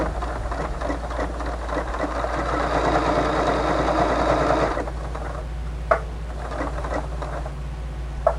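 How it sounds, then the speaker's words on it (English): A sewing machine runs a triple straight stitch on a tote bag, a close, fast whirring patter for about five seconds before stopping, followed by a low hum and a few isolated clicks. "Select the stitch I want, triple straight stitch. Lock stitch at the beginning and just sew it up."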